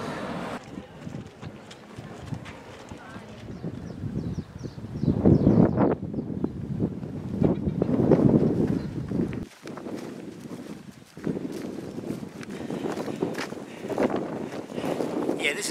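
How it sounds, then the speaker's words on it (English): Gusty wind on the exposed side of Great Cumbrae island buffets the microphone in rough, uneven surges of rumble, with a person talking intermittently. "this is definitely the windier side of the island"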